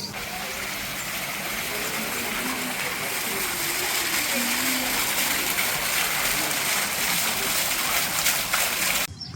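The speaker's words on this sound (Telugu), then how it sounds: "సౌండ్ ఎంత ప్రశాంతంగా ఉందో వాటర్ ఫాల్ది" Steady, broadband rush of falling water fills the scene, continuous and fairly loud, with faint low rumbles beneath it.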